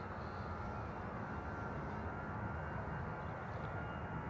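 An Aer Lingus airliner departs Dublin Airport for Munich as a faint, steady low engine rumble in the distance, continuous and unchanging, with no voices.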